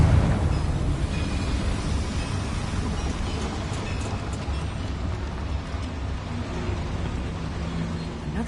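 Confringo explosive spell cast in the Hogwarts Legacy video game, inside a mine with boilers: a loud, sustained roaring blast with rumbling debris that holds steady for several seconds before tapering slightly.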